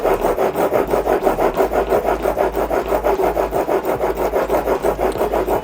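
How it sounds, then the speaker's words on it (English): Steady back-and-forth rubbing of a file or stone across a single-bevel broadhead, loud and close, with an even rhythm of roughly three strokes per second and no voices. "to sharpen this broadhead"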